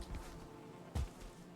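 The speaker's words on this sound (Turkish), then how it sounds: "Arı sesleri duyuyorum. Arı kovanı var onun içinde." A faint buzzing of bees from a beehive in the video game Valheim hums steadily at low level, with a brief soft thump partway through.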